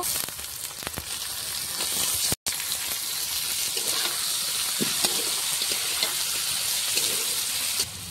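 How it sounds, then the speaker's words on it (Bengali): Mutton pieces sizzle in a pan of browned onions, a steady, fairly loud frying hiss with small crackles and a brief stir-like break partway through. "পেঁয়াজগুলো লাল হয়ে গেছে দেখতেই পাচ্ছ। এর মধ্যে আমরা খাসির মাংসগুলো দিয়ে দিব।"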